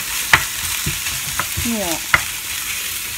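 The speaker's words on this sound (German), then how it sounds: "Und dann kommt das gleich einfach da rein und muss brutzeln, bis einem die Konsistenz gefällt" Food sizzles and fries in a pan, a steady close crackling hiss with occasional clinks of stirring and a brief spoken word over it.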